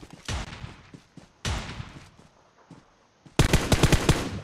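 Video game gunfire in PUBG Mobile comes in three loud bursts of rapid automatic shots separated by short gaps, the last burst the densest, with no talk over it.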